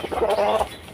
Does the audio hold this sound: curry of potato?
no